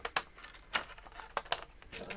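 Scissors cutting a piece of card freehand for a Christmas shaker card, a few quiet sharp snips at irregular intervals, close and faint.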